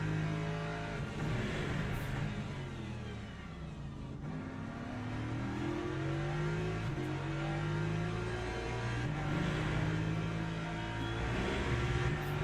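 Racing car engines, a Porsche with a Ferrari close behind in a racing game, drone steadily and loud near the listener, revving up and down through gear changes with a continuous mid-pitched roar and no talk.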